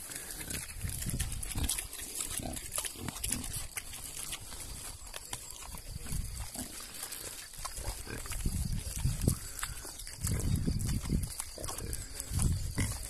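Pigs on a central Portuguese farm, among them a castrated Iberian black pig, grunt and snort steadily up close while being fed sweet treats, with rustling and shuffling movement throughout.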